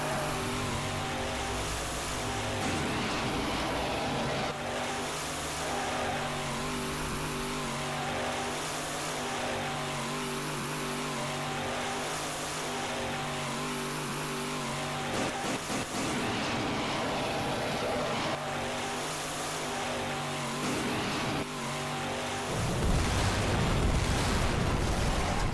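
Truck driving in the video game Duke Nukem Forever, a loud continuous engine drone with rushing road noise that holds steady for the whole stretch and shifts to a deeper rumble near the end.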